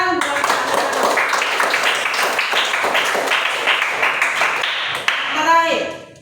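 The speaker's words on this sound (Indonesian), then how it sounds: "tepuk tangan buat kalian" Students in a classroom lesson clapping their hands together, a dense, steady patter of many claps lasting about five seconds before it breaks off and voices are heard.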